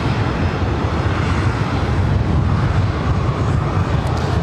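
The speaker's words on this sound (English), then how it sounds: "This is Delta Airlines Flight 2210 heading to Seattle in the 737-900ER. Boy, these things are loud." Delta Airlines Boeing 737-900ER at LAX, a loud, broad, roaring jet-engine rumble filling the whole stretch, steady and close without voices.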